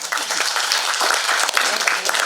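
Audience at a Tamil film special show breaking into loud, dense applause, a continuous burst of clapping filling the hall for a couple of seconds.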